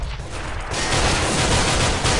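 Rapid bursts of gunfire from both teams in a Counter-Strike match, a dense crackling fusillade that grows louder and more continuous partway through.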